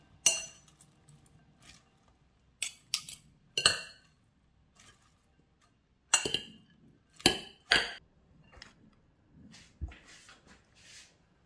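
Salad with a little meat and surimi is tossed in a bowl, producing intermittent clattering knocks and scrapes of utensils against the dish, separated by quiet gaps.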